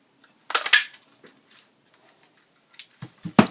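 A craft punch stamps a dog shape out of paper: a crisp crunching snap, then a few softer clicks and a final sharp punch, close and alone.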